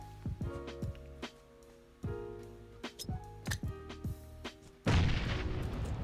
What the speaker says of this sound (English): he's gonna spam nades, watch